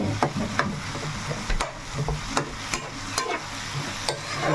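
Tomatoes cook down in a pan for roti tomato chutney, a soft steady sizzle broken by repeated scraping stirs at a regular pace, close up and with no voices.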